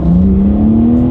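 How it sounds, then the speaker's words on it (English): A 2021 BMW M3 accelerating hard from a launch, its engine note a loud, steady drone rising smoothly in pitch over a brief stretch, heard from inside the car with no talking. "let's do a quick little acceleration test with the car having full control"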